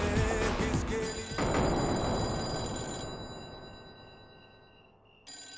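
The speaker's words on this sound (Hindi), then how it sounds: "जा बेटा देख किसका फोन है," A telephone bell rings indoors in a household scene, a loud jangling trill that sounds in bursts and then gradually fades before ringing again at the end.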